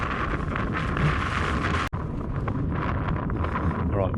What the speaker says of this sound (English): I don't know if you can hear me with all this wind